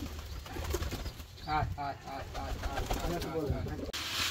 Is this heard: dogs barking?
no